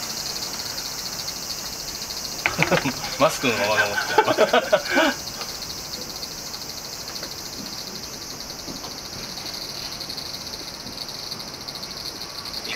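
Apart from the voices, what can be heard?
cicadas chirping at an outdoor beer garden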